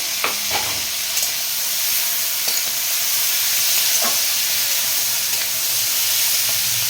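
Large-cut onions fry and sizzle in a pan for egg chow mein, a steady close hiss with a few stirring clicks and scrapes throughout and no talk.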